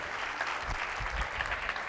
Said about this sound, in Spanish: un fuerte aplauso para Javier Gosende